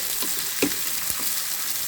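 Chopped onion sizzling in hot oil, a continuous crackling hiss with occasional stirring scrapes, close and clear without talk.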